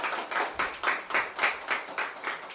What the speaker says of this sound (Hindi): एक बार अपने लिए ताली बजाइए कि आज के दिन आप लोग आए हैं